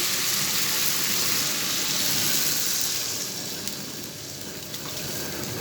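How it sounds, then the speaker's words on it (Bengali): Curry broth bubbling in a pan over fried spices, a steady close sizzle and boil that runs on without pause, ahead of tilapia being added. "দেখুন বন্ধুরা আমার ঝোলটা ফুটে গেছে"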